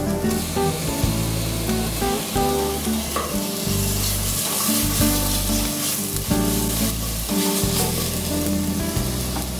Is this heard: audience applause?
no